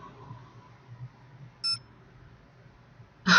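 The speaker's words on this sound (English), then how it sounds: "Oh, my phone's ringing." Two short electronic alert tones from a phone receiving a text message in a Nancy Drew video game, sounding alone over quiet background hum, one brief beep in the middle and another at the very end.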